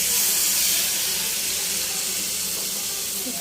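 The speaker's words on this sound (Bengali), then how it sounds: "লেগে যাচ্ছে, এখানে একটু পানি দিলাম," Water poured into a hot cooking pan of chicken being sautéed with spices, giving a steady broadband hiss and rush throughout, close and fairly loud, with no talk.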